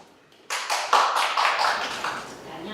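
An audience at an academic forum breaks into applause to welcome a speaker, a sudden burst of clapping from a modest crowd that swells then gradually thins out after a quiet start.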